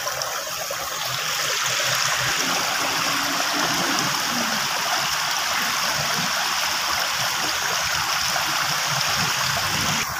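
Clear stream water flows steadily and close by somewhere in the Bicol countryside, a continuous broadband rush and gurgle with no talk over it.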